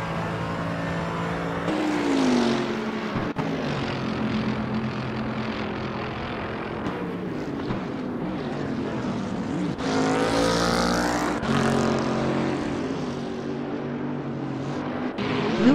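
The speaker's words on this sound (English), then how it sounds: "Rapid Scorpion is P22 driving a AMG GT3." Mercedes-AMG GT3 race car at Paul Ricard during qualifying, engine roaring loud and steady with shifting pitch as it accelerates and changes gear, with a brief drop around three seconds and a swelling passage near the end.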